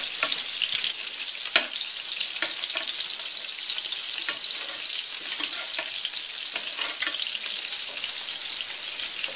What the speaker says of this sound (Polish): Teraz będę smażyła te klopsiki ze wszystkich stron na rumiano.